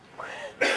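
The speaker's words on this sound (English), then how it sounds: "the more I speak, the more I cough" A single short cough, close and fairly loud, following a brief vocal sound.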